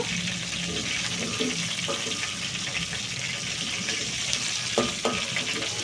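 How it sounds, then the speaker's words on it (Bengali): Catla fish pieces fry in oil in a wok, giving a steady crackling sizzle throughout, punctuated by a few brief clinks and scrapes of a utensil against the pan. "এগুলো কিন্তু একটু লাল লাল করেই ভাজতে হবে"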